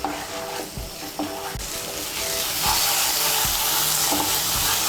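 Cashew, poppy seed and melon seed paste fries in oil with a steady close sizzle, punctuated by several soft thuds of a spoon stirring the pan, the hiss growing slightly louder midway.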